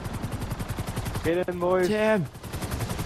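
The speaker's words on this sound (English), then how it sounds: "We're taking fire from the police because we probably just stole some money" Rapid pulsing police gunfire in GTA 5 Online rattles at close range, and someone shouts briefly over the shots partway through.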